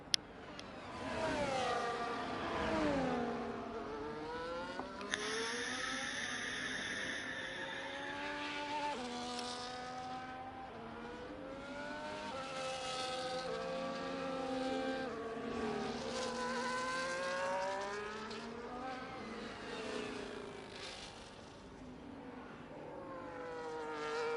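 Race cars on a qualifying flying lap in a sim racing game at Qatar: a high-revving engine whine rising and falling through gear changes and corners, fairly faint and continuous, with no talk over it.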